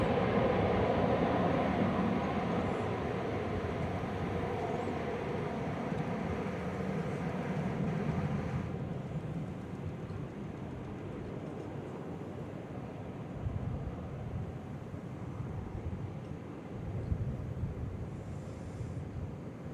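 An airliner landing at DFW Airport roars loudly as it passes, then the noise drops to a softer, steady rumble of jet engines rolling out on the runway.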